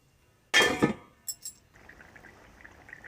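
A metal lid goes onto a pot of fish curry with papaya, taro and potato: one sharp clattering bang, a couple of light ringing clinks just after, then a quiet low simmer.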